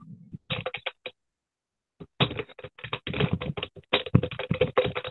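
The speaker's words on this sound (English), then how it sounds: "I can hear a keyboard." Rapid computer keyboard typing close by during an online video call, with bursts of clattering keystrokes after a short pause and no talk.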